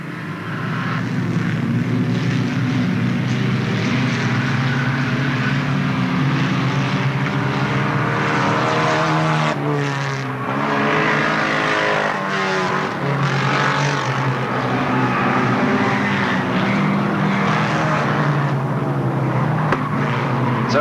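Stock rod race cars racing at Alwalton Raceway in 1983, a dense, loud, continuous engine roar from the pack that swells and shifts slightly as the cars pass, steady throughout with no voices.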